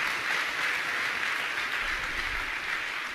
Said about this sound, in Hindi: तालियां आपकी बहुत कमजोर बज रही हैं।